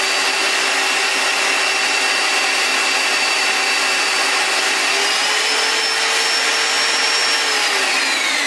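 A Black & Decker car buffer polisher running at high speed, a steady loud whine and motor hum that holds constant throughout with a slight pitch shift partway, no talking.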